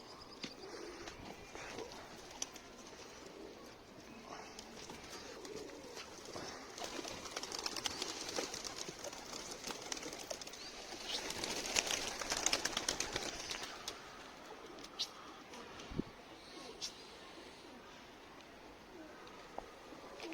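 A pigeon or dove perched on the roof of a BIM store, faint cooing and bird calls over steady outdoor ambience, with occasional people talking nearby.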